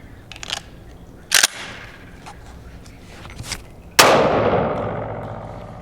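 A Benelli shotgun fired on a shooting range: a couple of sharp reports, then a loud, close blast with a long ringing decay. Faint handling noise fills the gaps.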